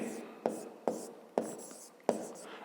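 Pen writing out a math exercise by hand on paper, four crisp strokes and taps at uneven spacing, close and quiet, with soft scratching between them.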